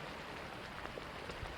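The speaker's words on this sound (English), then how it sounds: "just because it's raining right now," Steady rain hisses evenly throughout, a dense wash of drops with no voices or other sounds standing out.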